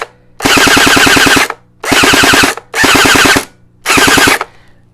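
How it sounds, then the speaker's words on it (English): A Gelbee Stormburst Glow gel blaster fires fully automatic in four loud, close bursts of rapid mechanical shots, each lasting about a second with short silent gaps between them. "So right now it's technically fully automatic. I just want you guys to hear how it sounds."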